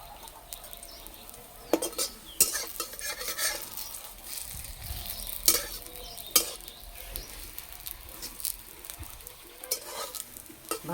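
Potato paratha fries in a little oil in a pan over low heat: a soft, continuous sizzle broken by several sharp scrapes and clinks of a metal spatula, with no talking.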